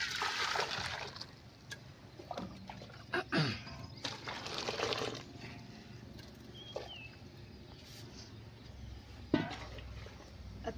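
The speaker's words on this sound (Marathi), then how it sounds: "त्यातलं मी दोन लिटर पाणी काढून घेणार आहे" Quiet liquid sounds: hot water being scooped and poured with soft splashes and sloshes at close range, brief clinks, and a few bright splashes near the end.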